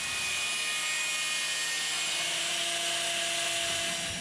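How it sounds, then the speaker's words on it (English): A power tool cuts welded metal off the front bumper of a second-generation Nissan Frontier, producing a continuous loud, high-pitched grinding whine that holds steady throughout, with no speech. "So I'm just gonna have to cut the metal off."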